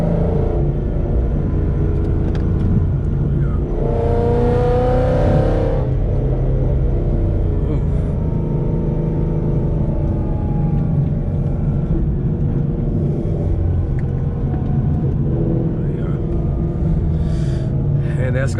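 Supercharged Ford Mustang engine under way on a curvy backroad, a steady, loud rumbling drone with one brief rise in revs partway through; a voice talks over it.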